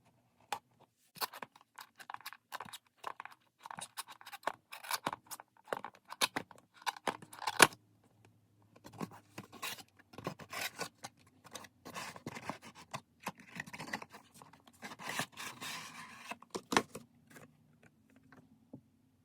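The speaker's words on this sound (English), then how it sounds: "let's go ahead and cut the tape and open this up." Intermittent scraping, slicing and crinkling as packing tape is cut and a cardboard box is opened for a Hot Wheels Batmobile collectible, close and quiet, scattered sharp rustles with short gaps.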